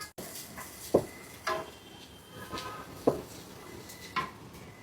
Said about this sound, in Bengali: পেঁয়াজটা ভালো করে একটু নাড়াচাড়া করে ভেজে নিব।